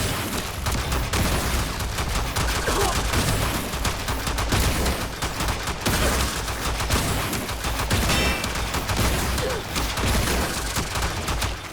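Rapid pistol fire in a shooter video game, a dense, continuous barrage of loud shots lasting throughout with hardly a pause.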